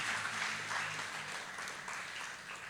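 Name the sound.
congregation applause in church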